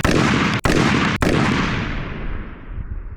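Two sharp, loud rifle shots from an unsuppressed rifle with no muzzle device, fired about half a second apart outdoors, each followed by a long rolling echo that fades away.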